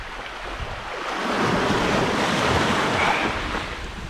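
Sea surf washes onto the beach at Anapa in a steady broadband rush that swells to a louder peak midway and eases slightly, with some wind on the microphone and no voices.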